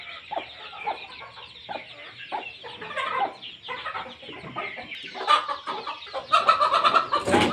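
A Hmong breed hen with chicks clucks steadily with a busy mix of softer peeps and chatter, fairly close, rising to louder, brighter calls near the end.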